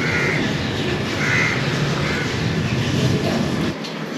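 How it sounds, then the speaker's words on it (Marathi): Crows caw through a steady wash of outdoor noise on a morning at a picnic retreat, several calls spaced across a few seconds. "पक्ष्यांचा आवाज येत असेल तुम्हाला."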